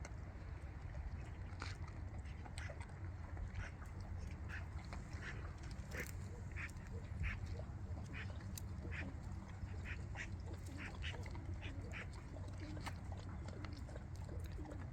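Birds gather at a feeding spot and call in short, scattered chirps and quacking sounds over a steady low rumble of background noise, with no talking.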